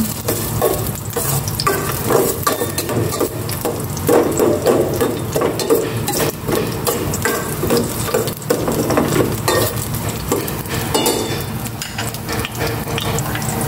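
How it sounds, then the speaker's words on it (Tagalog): Garlic sautés in a pan for a chicken soup, a continuous close, bright sizzle broken by the scrape and clatter of stirring that runs steadily the whole time. "Igisa ko na itong bawang."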